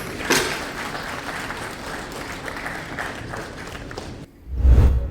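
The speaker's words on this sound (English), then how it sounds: "Please give them a round of applause." An indoor audience at a GST Day business event claps steadily for several seconds, dense and fairly close, then a brief lull before a louder burst of clapping.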